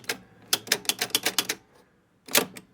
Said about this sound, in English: I think that's a ball count unit on this machine